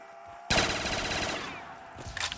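AK rifle in Call of Duty Black Ops 3 zombies mode firing a rapid automatic burst that starts abruptly and lasts about a second and a half, loud and close, followed by a few scattered shots.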